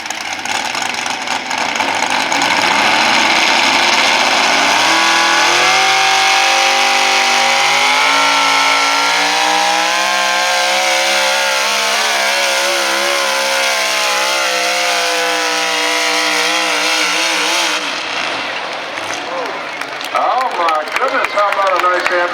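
A pulling tractor or truck engine at a fair's pulling event revs up hard to roughly 8,000 RPM, a loud sustained rising roar that climbs and holds, with a crowd and announcer faintly audible, before dropping off near the end.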